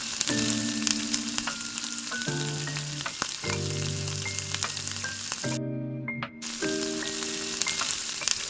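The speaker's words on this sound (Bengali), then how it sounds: "তারপর প্যানে অল্প তেলে পেঁয়াজ, ক্যাপসিকাম, গাজর আর বাঁধাকপিগুলো হালকা করে ভেজে নেব।" Onion, capsicum, carrot and cabbage fry in a little oil in a pan with a steady, close sizzle, broken by occasional stirring scrapes and a brief dip partway through.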